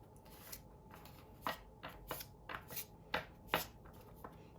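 An oracle card deck being shuffled by hand in a series of soft, quick riffling bursts, close and fairly quiet, with no talking.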